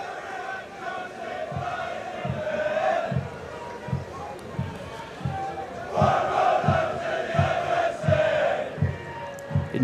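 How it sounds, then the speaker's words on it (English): Cardiff Met fans cheer their rugby team on in defence at an evening university match, a distant crowd roar swelling and surging while a commentator talks over it. "the cries of the Cardiff Met fans cheering their team on in defence"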